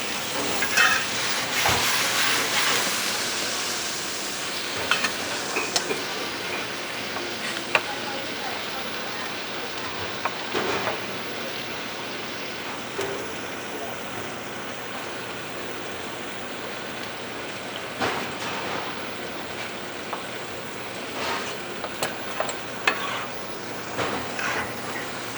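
Shrimp and tomato rice cooking down in a pan, giving a steady, dense sizzle and crackle that hisses like light rain, with occasional clicks and taps of a utensil against the pan throughout.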